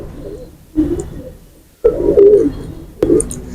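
A male Bhuchal and a female Rampuri pigeon coo up close in three separate low, throaty bursts, each about half a second long, with quiet pauses between and no talk.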